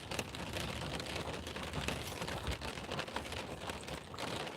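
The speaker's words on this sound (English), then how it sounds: "it's not going to stop raining" Persistent rain pours outside a garage, a dense, constant wash of patter at moderate level with no speech over it.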